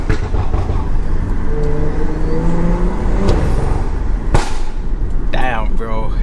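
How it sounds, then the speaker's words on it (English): A Stage 2+ tuned BMW engine drones steadily and loudly throughout, with a rising rev and a brief sharp burst near the end, like driving under acceleration. "I'll let you guys hear the car."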